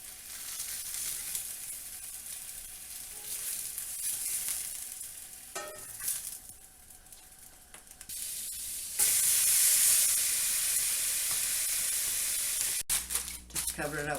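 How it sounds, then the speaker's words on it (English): Meat skin sears in a hot pan, hissing and sputtering in waves that surge loudest toward the end, with a voice speaking intermittently over the sizzle. "Flip them, and I'm going to put a sear on the skin part also"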